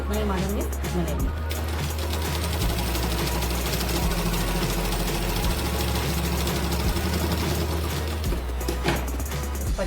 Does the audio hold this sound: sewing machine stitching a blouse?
yes